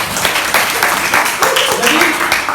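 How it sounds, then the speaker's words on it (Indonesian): A classroom audience claps in a steady burst of applause, moderately loud, with a few voices audible underneath. "tepuk tangan dulu."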